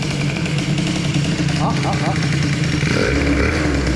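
A Peugeot 103 moped engine idling as it warms up, a steady buzzing two-stroke putter held close and loud throughout, with a slight shift in tone near the end.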